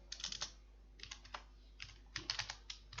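Someone types on a computer keyboard while working in ProjectLibre, tapping out short bursts of quick, close keystrokes separated by brief pauses, with no talking.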